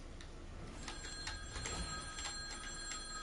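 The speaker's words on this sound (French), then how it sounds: "Il y a un téléphone qui sonne." An old-style telephone bell rings repeatedly in the Fortnite video game, a faint, rapid metallic trill repeating steadily over a quiet background with no talk.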